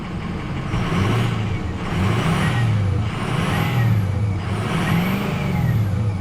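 A 2005 Ford F-250 Lariat turbo diesel with about 272,000 miles is revved several times in a row, each rise and fall of the engine coming close and loud with no talking.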